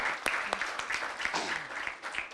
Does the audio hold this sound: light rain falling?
no